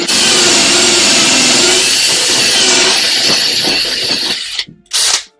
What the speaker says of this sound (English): So now we've drilled into the end of that handrail